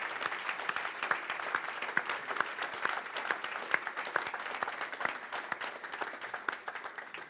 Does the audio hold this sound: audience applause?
yes